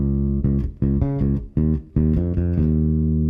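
A funky riff rings out on electric guitar without any counting, bursts of chords and muted notes with offbeat sixteenth-note stabs, loud and close and heard alone.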